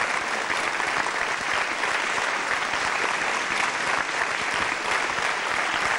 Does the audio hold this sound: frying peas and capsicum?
no